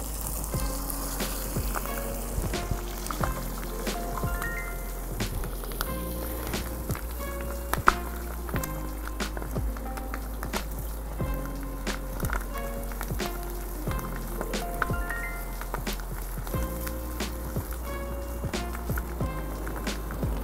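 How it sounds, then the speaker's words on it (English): Chicken frying in a hot pan, a quiet, steady sizzle with scattered crackles and pops, alongside occasional light clinks and knocks of cooking activity and no talking. "I'm just gonna add my chicken,"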